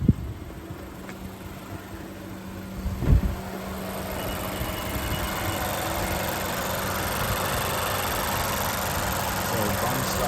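A mostly stock car engine idles with its stock exhaust in a steady, low, continuous hum. A brief thump sounds early on, and faint background voices may be present.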